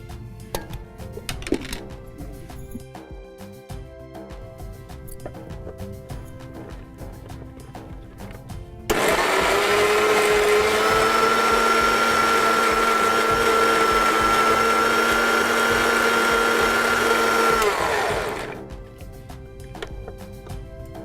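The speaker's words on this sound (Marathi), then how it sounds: "मिक्सरचं भांडत आहे वॉटरमेलनचे आपण पीसेस करून घेतलेले आहेत सो कलिंगड ज्यूस तयार करून घ्यायचं आहे" An electric mixer-grinder blends watermelon pieces into juice, switching on with a loud steady whirring drone that runs for about nine seconds and then winds down, with quieter kitchen handling before and after.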